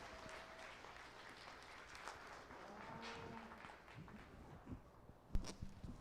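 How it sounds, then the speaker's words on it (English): Faint, steady applause from a crowd at a distance at a county fair livestock show ring, with some scattered footsteps and bumps toward the end. "Let's give everybody one more big round of applause as they leave the ring."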